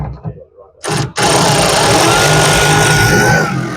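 A power tool tightens the nuts on a 2023 Ford Ranger sports hoop: a few brief clicks and a short burst, then a loud continuous whirring run that holds steady to the end.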